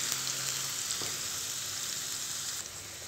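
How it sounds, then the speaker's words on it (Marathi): Ground spice paste sautés in hot oil in a wok over low heat for sev bhaji, giving a steady, soft hiss and sizzle at close range with faint stirring, and no one talking. "तेलामध्ये आता हे वाटण टाकायचं सगळं"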